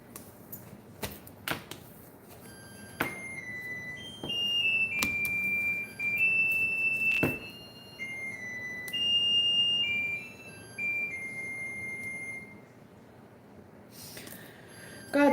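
A timer alarm going off as a series of high electronic beeps and sustained tones, with sharp clicks between them, moderately loud and close with no speech.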